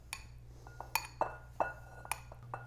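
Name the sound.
white beans added to a glass bowl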